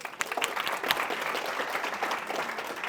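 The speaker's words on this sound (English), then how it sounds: "Round of applause for Jack" A room of attendees at a coaching workshop applauds a participant, the clapping fairly soft and steady for a few seconds with a couple of sharper claps near the start.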